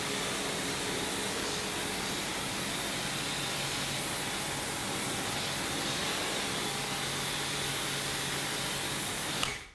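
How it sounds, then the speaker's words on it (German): Water rinsing the carbon roof of a BMW M car: a steady, close hiss of spray runs without pause for nearly ten seconds, then cuts off abruptly. "Jetzt erstmal abspülen."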